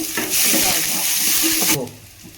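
Medium-sized onion frying in a pan with about ten curry leaves and a green chili for a coconut curry, a bright steady sizzle with stirring that cuts off abruptly, leaving faint residual hiss.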